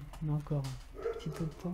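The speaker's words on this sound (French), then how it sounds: "Excusez-moi pour le chien qui a son habitude aboie" A dog barks a few short times in a home, the barks sounding under and between someone speaking French.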